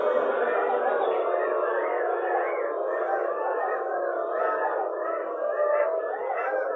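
A large crowd of many voices mimics the koel's call together during a group yoga exercise at an outdoor gathering, a dense, sustained chorus of warbling, rising hoots that holds steady and loud throughout without a break.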